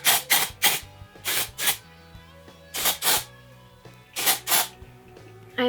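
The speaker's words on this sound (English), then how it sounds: "So I like to just spray that on my roots" Dry shampoo sprayed from an aerosol can onto the roots and bangs of thin hair while styling, heard as a series of short, close hissing bursts, mostly in pairs, with quiet pauses between them.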